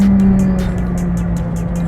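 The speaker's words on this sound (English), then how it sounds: "You can hear more of the engine." Engine of a 2021 McLaren 765LT road car heard from inside the cabin, a loud steady drone with a strong low tone and a faint rhythmic ticking above it, with no one talking.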